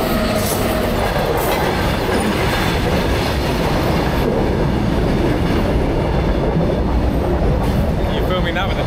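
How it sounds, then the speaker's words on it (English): A train rolls past loudly and close by on a jungle road trip in India, its steady roar and rattling wheels filling the whole stretch without pause. "There's the train."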